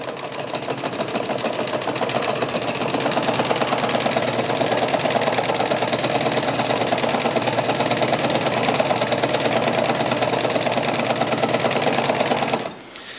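Singer 114W103 chainstitch embroidery machine stitching, a loud, fast, steady mechanical clatter running continuously up close for about twelve seconds before stopping abruptly.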